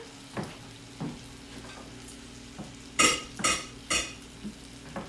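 Potatoes set back into a hot pan for chuffed potatoes with the burner switched off, a low steady sizzle broken by scattered scrapes and a few sharper clatters of utensil against pan.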